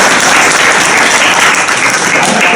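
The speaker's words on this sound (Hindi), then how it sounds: "दोनों की ताली बजाओ इनकी।" A crowd at an outdoor Ambedkar Jayanti gathering in Meerut claps steadily and loudly throughout, a dense wash of applause with no pauses.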